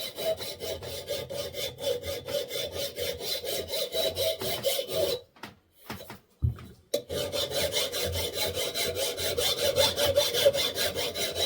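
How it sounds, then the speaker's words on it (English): A hand file rasps back and forth across a worn part of an old engine igniter from an Amanco, Ruston or Lister engine, in steady close strokes, pausing briefly midway before resuming. "we're just going to deburr a little to take that wear mark out of there"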